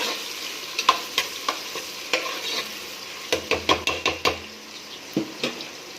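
Chopped onion frying in hot oil in a home kitchen pan for aloo gobi, a steady sizzle broken by a run of sharp clacks and scrapes as a spoon stirs against the metal.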